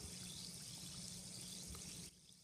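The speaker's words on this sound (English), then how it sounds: "The fizzing that we're hearing is actually indicative of a chemical reaction" Steady bright hiss of a bath bomb fizzing in water, continuous and close, cutting off abruptly near the end.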